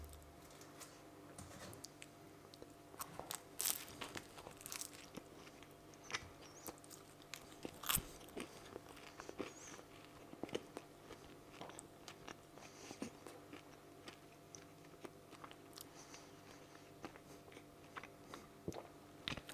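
Quiet close-up biting and chewing of a salty pastry with butter, a string of soft crunches and small crackly clicks in an irregular rhythm.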